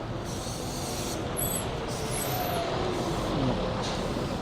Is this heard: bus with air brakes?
yes